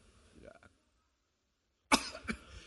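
A voice imitates coughing during a sermon: a short rough sputter, a pause of silence, then a louder burst of hacking coughs.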